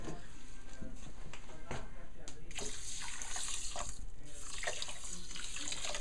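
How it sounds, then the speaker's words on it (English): Tap water running into a cooking pot to boil quinoa, a continuous rushing splash with small clinks and shifts in pitch as the pot fills. "So I'm going to fill it up with water again, get it close to about another 14 ounces."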